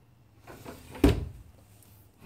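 A bathroom drawer shut with a single firm thunk, close by, after some faint rustling.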